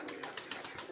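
Pigeons at their loft before feeding make a quick run of soft, evenly spaced pulses, faint and brief.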